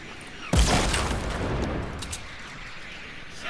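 A rocket launcher fires in a video game with one loud, close blast that trails off into a long rumbling, crackling tail.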